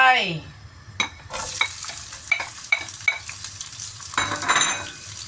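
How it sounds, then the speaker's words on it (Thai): Chili and garlic sizzle as they drop into hot oil, a sharp crackling frying hiss with stirring scrapes and clinks running through the steady sizzle, close and fairly loud. "ใส่น้ำมันเข้าไปพอประมาณ น้ำมันพอประมาณนะครับ ใส่พริกกระเทียมลงไป"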